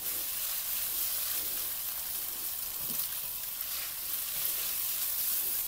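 Spicy seasoning paste sizzles and fries in hot cooked oil as it is stirred in a pan for spicy fried noodles with fish topping; a close, steady crackling hiss continues throughout without talk.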